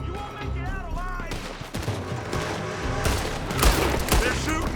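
A shootout in Red Dead Redemption 2 in Annesburg, with repeated gunshots and rattling volleys cracking over a rumbling game soundscape, loud and dense, building toward heavier bursts near the end.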